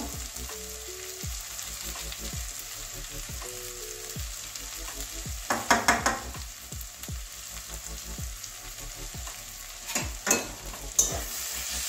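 Cabbage, carrot and egg curry with black pepper being stirred in a pan: a hissing sizzle under repeated spatula scrapes and knocks, louder bursts near the middle and end, over a faint low tonal hum.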